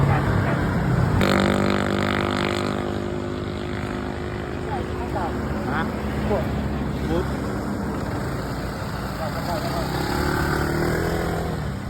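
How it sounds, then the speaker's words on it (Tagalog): A motorcycle engine runs with a steady droning hum on the Marilaque highway ride, with brief shifts in pitch, amid outdoor background noise and faint voices. "tinesting na Rex yung motor natin"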